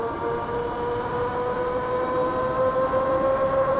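YOULON moped-style electric bike at full throttle, a steady rising electric motor whine with a clear tonal hum over wind rumble, close and continuous without talk.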